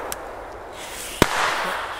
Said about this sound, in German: Das ist Fontäne mit Explosion, weißt du?